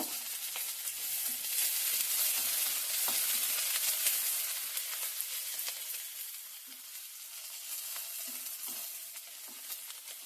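Onion and curry leaves fry in a pan with a steady, close crackling sizzle, punctuated by brief pops and stirring scrapes, with no voices.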